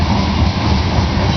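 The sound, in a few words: train passing behind the speaker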